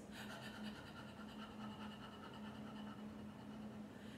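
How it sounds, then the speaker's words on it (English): A person pants deeply in steady, rhythmic breathing for a controlled-breathing exercise, even in-and-out pulses repeating throughout, faint and close with a low background hum. "then I'm doing more deep breathing, more deep panting."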